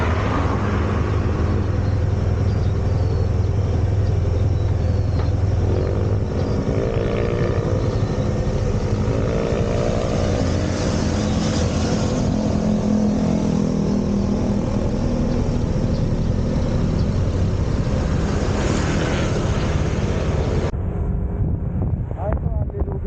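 Motorcycle engine droning steadily while riding on a road trip to Dingalan, with heavy wind rush buffeting the microphone and a few voices talking over the continuous road noise.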